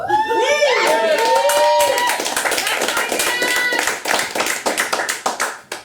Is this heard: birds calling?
no